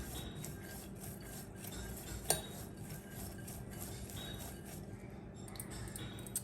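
Sprouted green gram salad stirred in a bowl with a spoon, giving soft repeated scraping and clinking with one sharper clink, faint and close, no talking.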